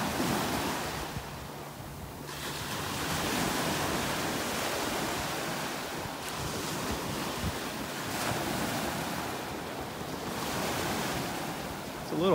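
Ocean waves break steadily along a beach in North Naples, Florida, a continuous broadband wash of surf that swells and recedes, mixed with gusty wind noise on the microphone.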